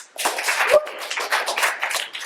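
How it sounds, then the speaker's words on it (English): A small group of students claps with a lively, uneven patter of hand claps that stays fairly close and continuous for a couple of seconds, at a school entrepreneurship presentation. "let's give a round of applause"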